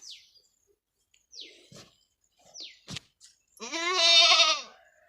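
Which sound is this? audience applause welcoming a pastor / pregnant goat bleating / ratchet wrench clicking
pregnant goat bleating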